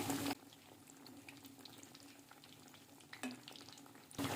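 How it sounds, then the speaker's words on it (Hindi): Potato and egg kebabs frying in oil over a low to medium flame, a soft, steady sizzle running quietly under the whole stretch. "और दूसरी साइड से भी गोल्डन कलर आने तक फ्राई करेंगे"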